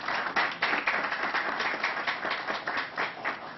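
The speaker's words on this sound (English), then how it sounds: "So let's give them a round of applause." Audience applause at a New York COVID-19 news briefing, a steady patter of many hands clapping close by for several seconds with faint rhythmic swells.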